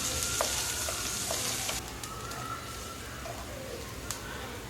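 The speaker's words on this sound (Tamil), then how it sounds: "இது எல்லாத்தையும் போட்டுட்டு இதை நல்லா வதக்கி விட்டுறலாம்." Onion, cumin, curry leaves and green chilli sauté in a pan, a steady close sizzle with occasional light scrapes and taps of a stirring utensil, softening slightly partway through, with faint bird calls in the background.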